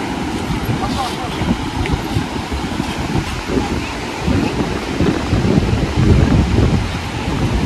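Sea waves and steady wind on a beach at Mandarmani, a continuous broad roar of surf with gusty wind buffeting, loud and close throughout with no break.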